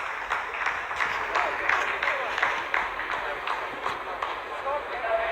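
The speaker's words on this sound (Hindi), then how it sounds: "आप इस तालियों के गड़गड़ाहट को सुन सकते हैं" Scientists applauding in the Chandrayaan-3 landing control room after the lander finishes a descent phase: steady, dense clapping from many hands throughout, at moderate loudness, with talk mixed in.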